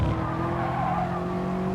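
A race car in the GT Sport video game late-braking on the Alsace track, its tires squealing over a loud, steady engine drone that holds for the whole stretch.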